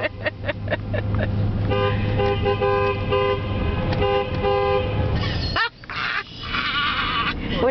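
Car horns honk inside a road tunnel in the Great Smoky Mountains, several short toots followed by sustained overlapping blasts that echo off the walls under steady engine rumble, with faint voices in the background.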